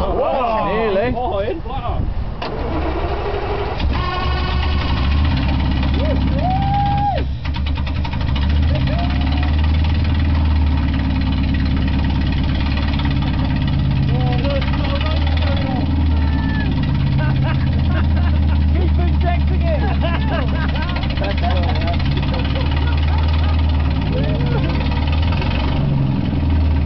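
A newly started engine running without a silencer roars loud and steady with a rough, rattling idle throughout, while voices talk and exclaim over it.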